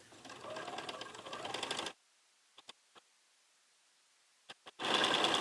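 Sewing machine stitching quilt block seams runs in a steady close whir for about two seconds, then stops. A few faint clicks follow before a second loud burst of stitching starts near the end.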